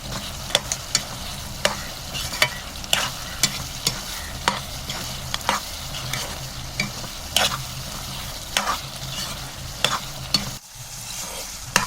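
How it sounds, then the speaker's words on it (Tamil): Mutton chukka being stirred with ground spice powder in a pan, a spoon scraping in steady strokes over a continuous close sizzle of frying meat. "பொடியை போட்டதுக்கப்புறம் ஒரு 2 நிமிஷம் இந்த மாதிரி கிளறி விட்டால் போதும்"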